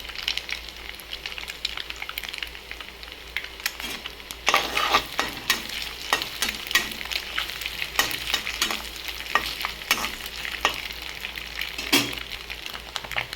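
Scrambled egg sizzles and fries in oil with turmeric for a garlic-chilli egg fry, a steady close crackle broken by repeated scraping stirs of a spatula against the pan.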